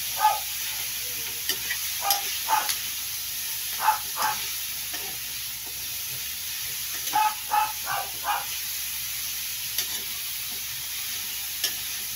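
Beef and carrots fry in a pan with a low, steady sizzle, while a utensil stirs and scrapes them in a string of short, close strokes that come in uneven groups.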